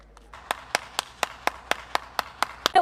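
Hands clapping in a slow, steady rhythm, about ten distinct sharp claps spaced roughly a quarter second apart, fairly close and alone with no talk over them.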